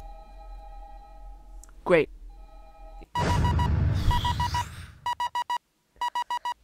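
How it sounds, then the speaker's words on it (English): Repeated short electronic beeps in the horror video game Five Nights at Candy's 2 spell out a Morse code message, coming in clipped bursts after a rumbling stretch, with a brief spoken word earlier. "Morse code message."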